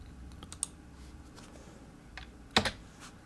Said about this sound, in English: I just hit delete on the keyboard to delete that.